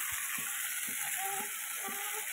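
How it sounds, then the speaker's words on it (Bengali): Ridge gourd and potato fry in a pan with cumin, ginger and chilli, giving a steady close sizzle with faint stirring scrapes and no talk. "ঝিঙে আর আলুটা কিন্তু পুরো ভাজা হয়ে গেছে"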